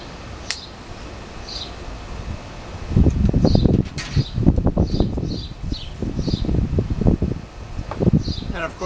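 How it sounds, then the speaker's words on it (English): Wind gusting outdoors while a Yamaha FZ600 motorcycle is being painted, calm at first and then buffeting in repeated rough bursts from a few seconds in, with faint bird chirps scattered above. "the wind just starts kicking up right when we don't want it to."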